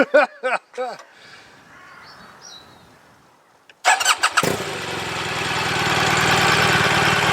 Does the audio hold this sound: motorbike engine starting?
yes